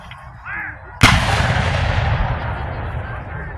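A small cannon fires at a Civil War battle reenactment with a single loud, close boom that rolls and echoes away for several seconds, after a brief moment of quiet outdoor voices.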